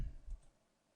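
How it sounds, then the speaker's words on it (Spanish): A single sharp click of a computer mouse, brief and close, followed by near silence. "Fijaros que hago clic"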